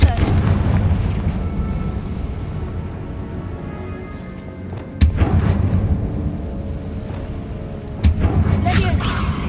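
Confringo fire-curse blasts in the video game Hogwarts Legacy: two sharp booming explosions land about three seconds apart over a dense bed of game noise and music.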